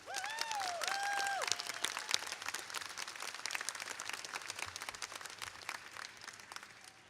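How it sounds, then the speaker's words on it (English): Applause from a crowd at an equality rally at a state house, a fairly distant, soft patter of many hands clapping with some whoops early on, sustained without much change. "Let's give a round of applause."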